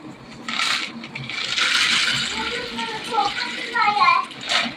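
Mixed peas being rinsed under a running tap in a home kitchen, washed two or three times, with a steady rushing splash of water and occasional clinks, while voices, including a child's, are heard faintly.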